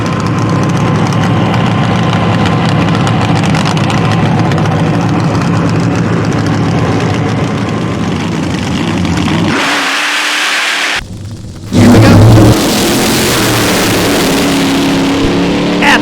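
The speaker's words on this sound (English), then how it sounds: "221 miles an hour for the dragster as Rachel Meyer goes right down the middle" A nitro dragster roars down the strip at Mo-Kan Dragway in a loud, sustained engine blast that cuts out briefly and then returns just as strong.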